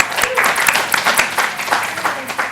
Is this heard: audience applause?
yes